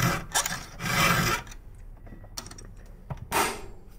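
A hand file rasps across a chainsaw chain cutter in several firm back-and-forth strokes, close and alone, with short pauses between passes.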